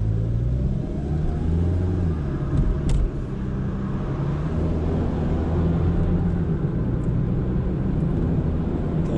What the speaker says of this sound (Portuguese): Então eu vou levar o carro até os 100 por hora.